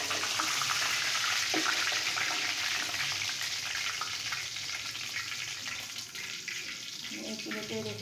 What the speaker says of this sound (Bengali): মাথাটা সুন্দর মতো ফ্রাই করা হয়ে গেছে